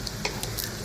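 Garlic and onion frying in a pan for Filipino pork blood stew (dinuguan), a close, steady sizzle and hiss with a few crisp pops, heard alone.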